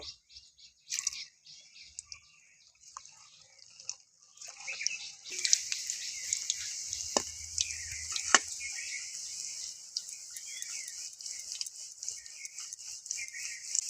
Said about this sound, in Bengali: তো একইভাবে আমি বাকিগুলো ভেজে নেব